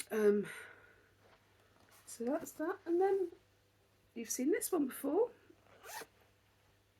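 A zipper on a bag is pulled shut in a few quick, close rasping strokes, interleaved with someone talking quietly nearby.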